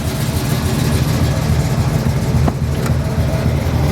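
A 1968 Chevrolet El Camino with a high-performance engine and Turbo 400 transmission idles steadily nearby, a loud, even low rumble holding throughout with no voices.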